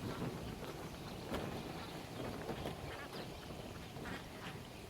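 Ducks quack at a small farm with laying hens and meat birds, a few scattered quacks buried in heavy wind noise and steady outdoor rumble.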